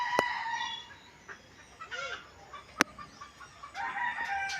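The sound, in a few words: chickens crowing and clucking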